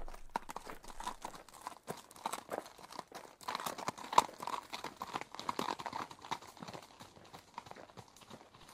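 A horse's hooves clip-clop steadily across a battlefield, a dense run of crisp close hoofbeats with faint crunching underfoot, moderately quiet and with no talk.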